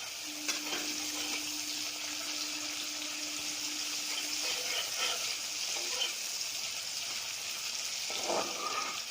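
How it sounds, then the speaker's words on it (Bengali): Onions fry over a high flame in a pan for a chicken curry, a constant close crackling sizzle with a faint hum early on and a brief stir near the end. "দেখুন পেঁয়াজটা আমার প্রায় ভাজা ভাজা হয়ে এসছে।"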